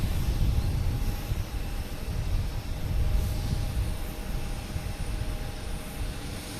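A Delta airliner departing Boston Logan Airport, heard as a distant, sustained jet roar that swells slightly and then eases, with a faint steady whine riding over the rumble and no voices.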